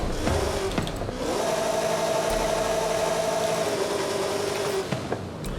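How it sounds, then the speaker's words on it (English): A 1995 Ford Mustang SVT Cobra with an upgraded exhaust in Forza Horizon 5 holds a steady, buzzy engine note, with a brief rev at the start and another near the end. "But listen to it with an exhaust."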